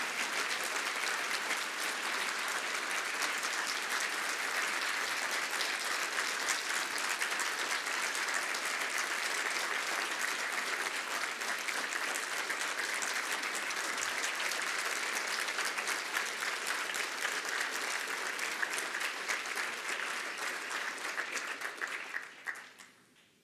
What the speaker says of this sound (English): I want us to give a big round of applause for our first responders